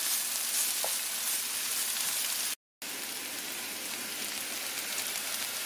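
Seasoned potatoes sprinkled with ground pepper fry in a pan with a dense, even sizzle like rain, briefly cut out for a moment midway before carrying on steadily.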